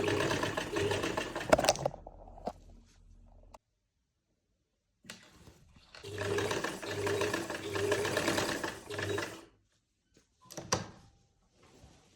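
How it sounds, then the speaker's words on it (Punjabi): A sewing machine stitches fabric for a fitted garment in short bursts, with a fast close rattle that stops, pauses in silence and starts again, ending with a brief final run. "ਆਪਾਂ ਇਸ ਤਰ੍ਹਾਂ ਨਾ ਸਲਾਈ ਲਗਾਉਣੀ ਸ਼ੁਰੂ ਕਰਨੀ"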